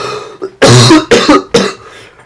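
A person recovering from illness lets out three harsh, loud coughs close to the microphone in quick succession, after a brief throat sound.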